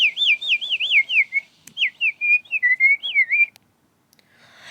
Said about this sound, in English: The green speckled warbler has developed a very complicated call to attract mates.